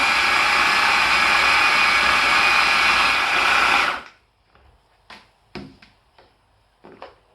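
A blender whirs loudly and steadily while mixing vegan pesto sauce, then cuts off abruptly, leaving a few faint clicks and knocks in the quiet afterward.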